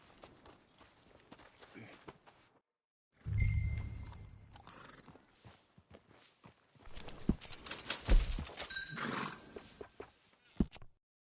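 A horse in the western game Red Dead Redemption 2 whinnies loudly, then hooves clip-clop and shuffle amid ambient outdoor sounds, with quieter stretches between.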